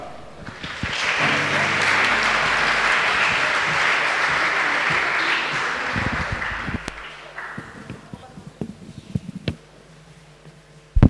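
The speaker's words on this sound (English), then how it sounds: "So again, very big applause for Stepan Švestka, Milan Vanicek," Audience at a closing ceremony for an engineering competition final bursts into loud sustained applause for several seconds, then the clapping thins to scattered claps and fades toward near silence.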